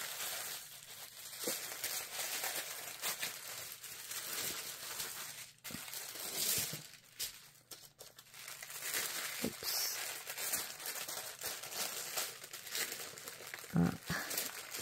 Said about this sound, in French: Je vais enlever le papier